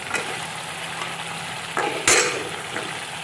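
Cauliflower and potatoes sizzling in a pan, with a steady frying hiss while a spoon stirs, plus a couple of sharper clinks and scrapes against the pan near the end.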